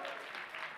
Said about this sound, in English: Clap it up for Rose.